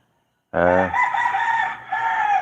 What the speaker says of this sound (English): These roosters here are the roosters from the neighbours, which have always been here.